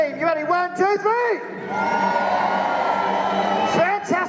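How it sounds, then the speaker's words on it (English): A large arena crowd at a Peterborough truck show erupts in a sustained scream and cheer after an announcer's amplified countdown, with his voice returning at the end. "I need a big old scream from everybody around the Peterborough Arena here"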